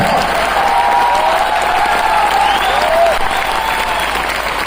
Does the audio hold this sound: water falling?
no